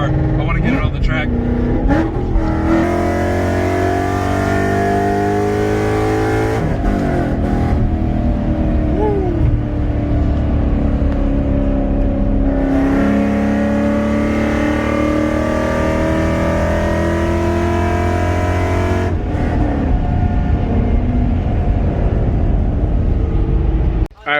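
A Ford Mustang with a newly installed clutch driving along, its engine droning and rising and falling through gear changes from inside the car, with a voice talking over it.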